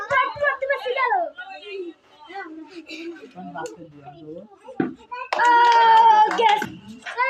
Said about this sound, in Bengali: হাততালি দাও খুব সুন্দর